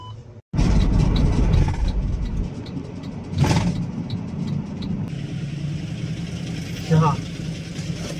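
Engine of a Kaju 500 motorhome running during a drive, a steady close mechanical rumble that starts abruptly after a short gap and continues with slight swells, with people talking over it.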